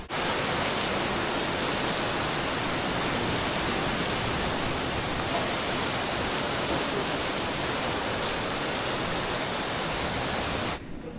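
Rain falls steadily and loudly during a bikepacking trip in the Alps, a dense, unbroken hiss of drops that lasts almost the whole stretch before cutting off near the end, with no voices.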